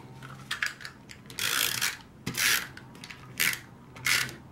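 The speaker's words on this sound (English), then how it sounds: "I'm just going to put some tape runner on this part of the flap." A tape runner dispensing adhesive onto a paper card flap, a series of short, quiet scraping and clicking strokes in an irregular rhythm, close up, with no talk.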